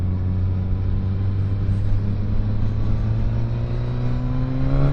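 A Suzuki GSX-S1000 motorcycle with a Yoshimura exhaust: steady engine drone with low rumbling exhaust, pitch slowly climbing as it revs, loud and continuous with no voices.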